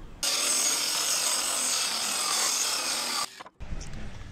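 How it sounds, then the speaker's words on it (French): A circular saw cuts through wooden cladding boards in one loud, continuous rasping pass of about three seconds, then stops abruptly, leaving a brief low rumble. "avec une scie circulaire, on va découper le long"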